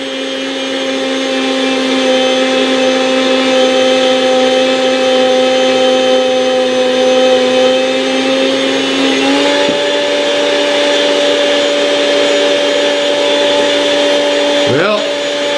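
A Chef's Choice 615A electric meat slicer runs with a steady motor whine as chuck roast is pushed through the blade. The pitch dips briefly under load near the end.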